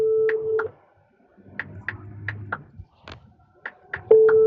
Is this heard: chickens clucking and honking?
no